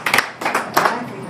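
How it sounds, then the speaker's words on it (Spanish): A scattered round of hand clapping rises in three short bursts from a formal-event audience in New York, fairly faint and brief. "Un aplauso para él."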